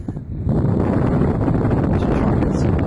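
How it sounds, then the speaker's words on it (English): Strong wind buffets the microphone at a fishing spot on the water, a loud continuous roar rising after a brief quieter start. "It's very windy."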